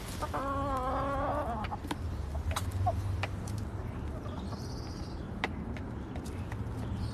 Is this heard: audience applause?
no